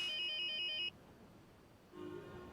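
A mobile phone ringtone plays in the Star Stable video game, a clear electronic beeping melody for just under a second. A quiet tonal hum follows, then a soft tonal sound returns near the end.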